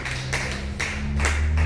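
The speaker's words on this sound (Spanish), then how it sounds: "Aplauda fuerte el nombre de Jesús." Church congregation applauding loudly together, a dense steady wash of clapping with periodic surges, heard close and full for a couple of seconds with a low hum underneath.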